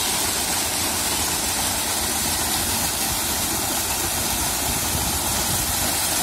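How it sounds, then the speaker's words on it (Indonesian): A Kawamoto 6-inch irrigation pump driven by a 24 HP diesel engine sprays water over a cornfield, a loud, constant rushing roar with an engine rumble beneath it that continues without a break. "Wah, ini hasil semburan dari pompa Kawamoto 6 Dims. Mesinnya 24 PK guys."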